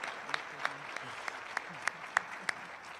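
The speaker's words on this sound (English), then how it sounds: "absolutely one last round of applause for our panelists" Small panel-discussion audience giving a final round of applause, faint scattered claps with a few sharper distinct hits, moderately distant and without speech.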